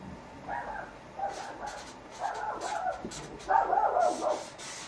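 An excited pet dog gives a run of short, yappy barks and whines in a few bursts, close by and fairly loud, with no talking over it.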